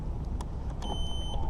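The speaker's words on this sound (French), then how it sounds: "le bip du roll lock" A Piaggio MP3 three-wheeled scooter sounds a short, high electronic beep as its roll lock engages, standing out briefly against the steady rumble of city traffic.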